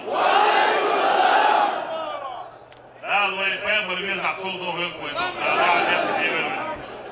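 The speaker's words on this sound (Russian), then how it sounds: "Многотысячная толпа приветствовала служителя Корана бурными овациями." A vast crowd of thousands in a public square roars in a stormy ovation for a Quran reciter, loud massed shouting that dips briefly, then a single voice rises over the crowd noise.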